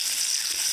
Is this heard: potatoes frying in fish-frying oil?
yes